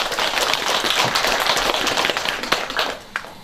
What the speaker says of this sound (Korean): 오늘 사회를 잘 보신 문수영 종합대학교 큰 박수 한번 주세요.